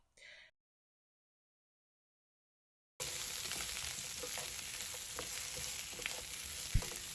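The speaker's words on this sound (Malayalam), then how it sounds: "ആ സവാള നമുക്ക് ആ എണ്ണ ചൂടാകുമ്പോൾ അതിലേക്ക് ഇട്ട് കൊടുക്കാം." Onion sautéing in hot oil for Mongolian beef, a steady close sizzle with faint crackles and one sharp utensil knock, starting after a brief sound and a few seconds of silence.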